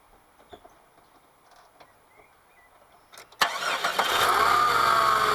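A Jeep Cherokee XJ after a water pump and thermostat change: quiet shuffling and clicks, then a sudden starter crank as the engine catches and settles into a steady loud idle.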